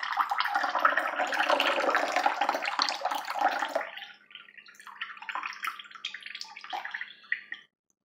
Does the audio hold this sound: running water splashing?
yes